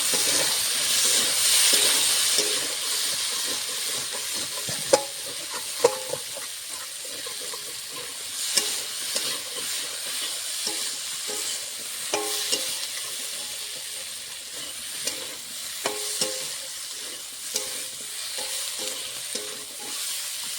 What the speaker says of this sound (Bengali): দেখো পেঁয়াজটা ভাজা হয়ে গেছে সবজির সঙ্গে।